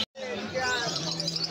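Exotic birds chirp and twitter in cages at a busy Kolkata street bird market, a dense chorus of high tweets under nearby voices and crowd chatter.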